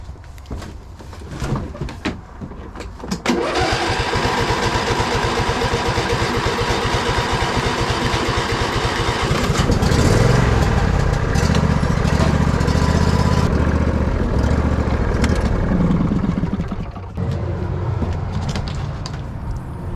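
A Kubota BX compact tractor engine cranks with a few sputters, catches and roars to life, then settles into a steady, rumbling idle, close by.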